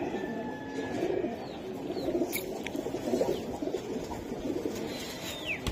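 Giribaz pigeons in a loft give a steady chorus of low cooing with scattered wing flutters and small knocks, mid-distance and continuous for several seconds.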